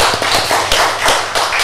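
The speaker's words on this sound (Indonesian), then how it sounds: "Tepuk tangan untuk kita semua." Brief burst of audience applause at a regional government meeting on ancient manuscripts in East Java, loud, dense clapping with no speech.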